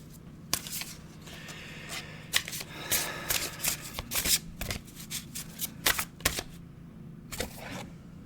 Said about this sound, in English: let's pull an oracle card, shall we?